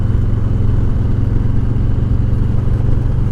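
A motorcycle engine drones steadily and loudly at close range while the bike leans through a right-hand turn, a constant low throbbing hum with no voices.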